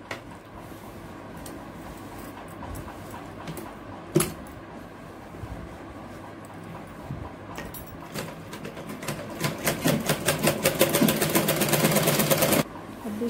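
An electric sewing machine stitching a sleeveless kurti, quiet at first with scattered clicks and handling noises, then building into a steady rapid rattle of stitching near the end.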